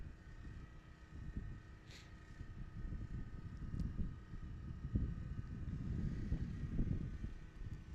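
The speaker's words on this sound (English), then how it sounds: "just a lot of wind starting to kick up here at these showcase games out at Kincaid here in Anchorage" Wind gusting across an outdoor soccer field at Kincaid in Anchorage during showcase games, a low rumbling buffet on the microphone that rises and falls continuously, with no voices over it.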